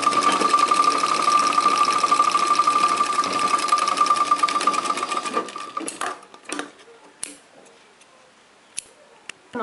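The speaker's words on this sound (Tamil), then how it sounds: "இப்போ இதில் ஒரு தையல் போட்டுக்கலாம்." A sewing machine runs steadily, stitching a seam on fabric in a beginners' tailoring lesson, a loud continuous whir for about six seconds before it stops, followed by a few faint clicks and handling sounds.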